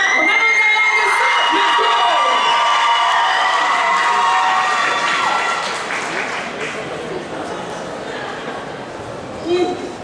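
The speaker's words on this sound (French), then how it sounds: "Applaudissez Lady Justin en avant-garde de ça." A crowd at a roleplay contest applauds and cheers a participant, loud at first with whoops and shouts, then gradually easing into softer, scattered clapping and chatter.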